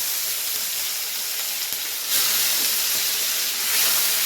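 Chopped tomatoes frying in hot spiced oil with cardamom, a loud, continuous sizzle and hiss up close that swells briefly as the pan is stirred, no voices.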